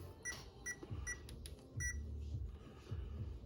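Several short electronic beeps from an RC car's speed controller during setup sound close by in a quiet setting, with a low hum and faint handling noise underneath.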